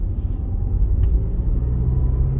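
A manual car's engine pulls in third gear with a loud, steady low rumble from inside the cabin, continuous and without any voices.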